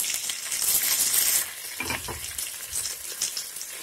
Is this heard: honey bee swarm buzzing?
no